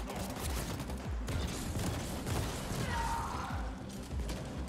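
Continuous loud gunfire from The Ascent, with rapid repeated shots and crashing impacts forming an unbroken barrage throughout.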